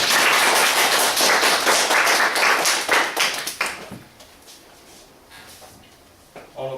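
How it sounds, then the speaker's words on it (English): An audience claps in a burst of applause for a few seconds, dense and loud at first, then thinning into scattered claps and fading out, with a brief stir of noise at the end. "Give Miguel a round of applause."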